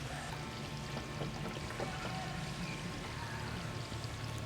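A hot tub pump circulating water just after being switched on, a quiet, continuous rushing and pouring flow with a low hum underneath and faint splashy trickles.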